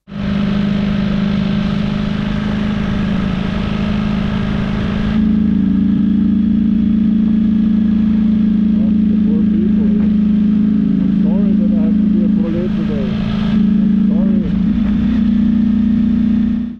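A Ducati Streetfighter V4 S motorcycle engine drones loudly and steadily while riding, with a deep rumbling tone throughout and a person talking over it.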